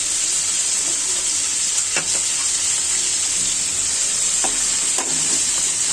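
Kalibaus fish sizzling in a hot pan with turmeric, a steady close frying hiss broken by a few sharp crackles and spatters, with no talking.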